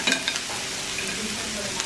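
Butter sizzling and spitting in a hot pan while being prepared for Lao BBQ, a steady close frying hiss with small crackles throughout.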